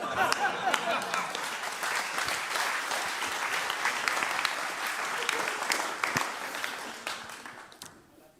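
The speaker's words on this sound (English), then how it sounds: "Applause for them." A conference audience at Devopsdays Amsterdam 2023 applauds in a dense, sustained round of clapping that stays even for most of its length and fades toward the end.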